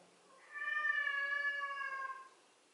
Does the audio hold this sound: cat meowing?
yes